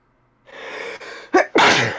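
A drawn-in breath builds, then a sharp sneeze bursts out, loud and close, followed by a breathy exhale.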